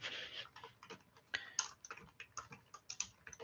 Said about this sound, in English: Man, my typing's terrible today.